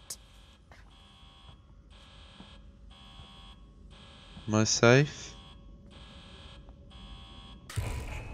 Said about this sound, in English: What is with the alarm?